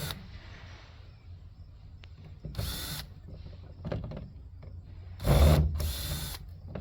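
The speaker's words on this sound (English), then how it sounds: "Now let's see if I can get my drill to do this." A DeWalt power drill whirs in several short bursts, the last ones louder and closer, with clicks and handling noises in between.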